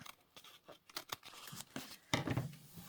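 Tea-stained paper being trimmed with scissors for matchbook paper pads, with a series of close, crisp snips and rustling paper handling, ending in a louder cut and crinkle.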